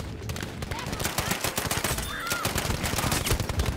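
Rapid, continuous automatic fire from a grease gun in Battlefield 5, a dense stream of close, loud shots throughout, with occasional battlefield noise mixed in.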